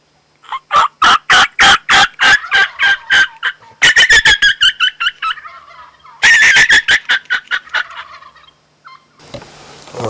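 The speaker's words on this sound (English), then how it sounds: "a flock of hens, being harassed by several gobblers, were putting on quite a show" Loud, rapid gobbling from Merriam's wild turkeys close by in Wyoming, gobblers among a flock of hens, bursts of rattling calls repeating in quick series with short pauses between them.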